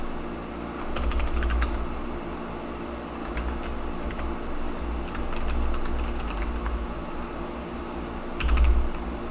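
Keys clatter on a computer keyboard while HTML for a paragraph and a link is typed, irregular bursts of close clicks over a steady fan-like hum, with no talking.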